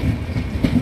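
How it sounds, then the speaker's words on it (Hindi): Bangalore to Kanyakumari express train rushing past close and loud, a brief heavy rumble of rolling wheels on the tracks with no voices. "साउथर्न रेलवे की सबसे बेस्ट ट्रेन।"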